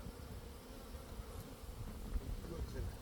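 Honeybees buzzing around an opened hive while a super is added, a dense, continuous low hum that stays close and even, swelling slightly toward the end.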